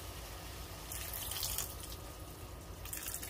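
Water runs steadily from a kitchen tap into a cooking pan, a continuous close hiss and splash that swells slightly partway through, with no voices.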